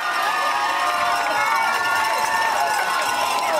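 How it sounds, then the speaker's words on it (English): Fans cheer and shout in the high school stands at a John Adams sporting event, a loud, dense crowd roar that holds steady throughout with no break. "The sound of cheering is back in the stands this fall."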